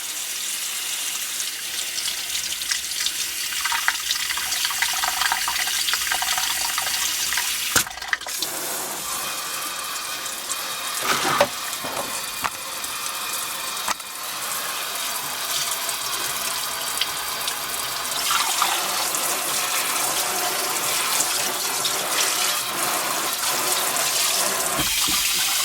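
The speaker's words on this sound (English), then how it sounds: "I'll put hot water through the hose, and it'll take some of this natural bend out, warm up the hose" Hot water runs from a kitchen faucet through a new supply hose into a sink, a steady rushing flow lasting throughout with a few clunks and knocks partway through.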